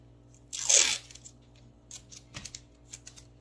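A strip of tape is pulled and torn with a loud crunchy rip while sealing a homemade cardboard mystery-box house, followed by several fainter crinkles and taps, with no talking.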